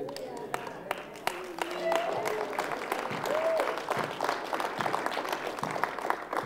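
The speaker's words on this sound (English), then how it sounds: "you better give them a better clap than that" A church audience gives a burst of applause, a dense run of many hands clapping steadily for several seconds, with voices mixed in.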